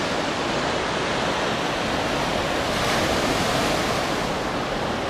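Ocean surf breaks along the shore in a steady, loud, close wash of rushing water that holds without pause, with no voices.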